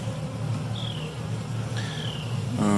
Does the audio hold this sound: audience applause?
no